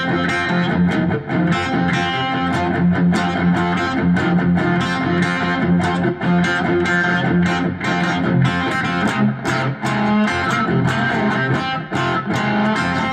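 A 4-string cigar box guitar in FCFC tuning plays metal licks through heavy distortion, a loud, dense, saturated drone with repeated picked and strummed attacks continuing without pause.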